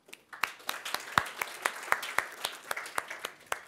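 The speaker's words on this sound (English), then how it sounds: "I would like we give a round of applause for this wonderful" A conference audience at Lambda Days 2016 gives a short round of applause, with a sparse, uneven patter of individual claps at a moderate distance, no voices over it.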